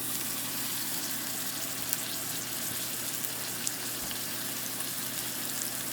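Meat sears in tallow on an induction cooktop, a steady, close sizzle with fine crackling that continues evenly and alone.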